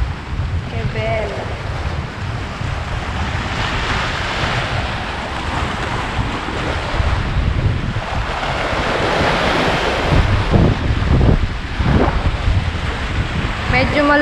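Strong seaside wind on a beach roaring into the microphone, buffeting continuously, with surf churning underneath and gusts building toward the end.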